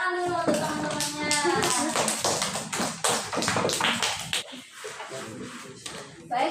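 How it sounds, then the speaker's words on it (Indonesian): Students in an Indonesian classroom clap together, a dense burst of applause lasting several seconds that thins out toward the end, with voices mixed in. "kasih tepuk tangan dulu untuk teman-temannya"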